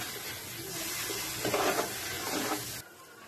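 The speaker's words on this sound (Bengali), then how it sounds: "মশলাটা আমার ভাজা ভাজা হয়ে গেছে মশলা থেকে তেল ছেড়ে দিচ্ছে" Chicken spice paste sizzling and frying in hot oil in a pan, a steady close crackle with stirring swells in the middle before it abruptly drops away near the end.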